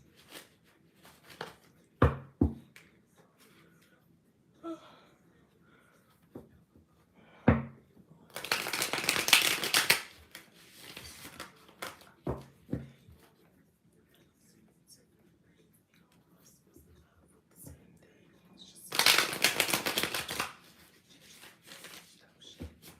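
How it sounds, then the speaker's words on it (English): Tarot cards are shuffled in two long riffling bursts, with scattered taps and handling sounds between them; a voice speaks quietly at times. "I'm going to shuffle a bit for a collective reading this morning."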